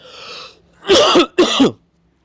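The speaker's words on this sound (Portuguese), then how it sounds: "desculpa a tosse" A single harsh cough split into two quick bursts, loud and close, after a brief breathy sound.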